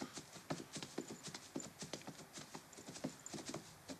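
Hooves clip-clop in a steady walking rhythm as horses are ridden along, faint and somewhat distant, with no voices over them.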